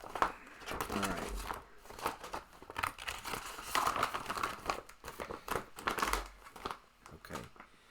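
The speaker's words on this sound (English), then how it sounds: "It's capturing all of this rustling sound." Paper pages being handled and counted, with repeated crinkling and rustling bursts at close range, steady and fairly loud throughout with no talk.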